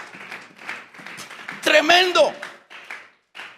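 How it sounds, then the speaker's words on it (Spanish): A congregation claps as an offering of applause during a Spanish-language church service, with scattered bursts of hand claps mixed under a preacher's voice. "Vamos a regalarle ofrenda de palmas al Dios de la gloria."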